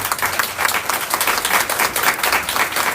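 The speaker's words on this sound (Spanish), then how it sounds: "Por favor, un aplauso para todas nuestras panelistas." Audience applause for a panel of speakers at a public discussion event, a dense, steady wash of many hands clapping at moderate loudness throughout, with no voices over it.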